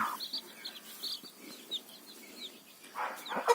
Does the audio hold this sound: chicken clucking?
yes